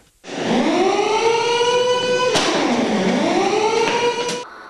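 A loud siren wails up and down in long sweeping tones, rising, falling and rising again, heard on its own.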